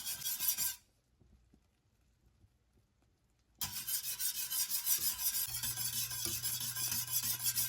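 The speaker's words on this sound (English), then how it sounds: "Just gonna keep whisking." Minute tapioca is whisked in a pot as it thickens toward a boil. A short burst of brisk scraping gives way to near silence, then steady, close, raspy whisking runs on without a break.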